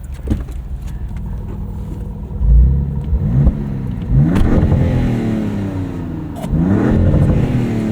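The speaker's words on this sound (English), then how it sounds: "the Scat Pack exhaust is a little bit spicier. It's got that at the rev limiter" A loud 2026 Dodge Charger Scat Pack engine idling with a deep exhaust burble, then revving hard three times to the rev limiter in quick pulls that rise sharply and fall back.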